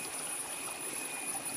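A forest stream on the Agasthyarkoodam trek flows in a steady, unbroken rush of water, close and even, with no voices.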